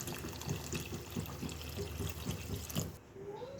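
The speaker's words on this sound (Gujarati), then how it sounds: "હવે આપણે એમાં પાણી નાખી દેવાનું છે।" Water is poured into a pot of mung beans while cooking, a close, gurgling splash with small drip-like pulses that cuts off near the end.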